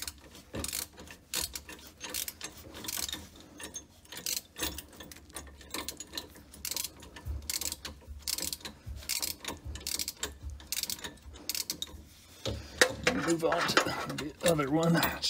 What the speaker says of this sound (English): Wish I had a short 13 millimeter socket.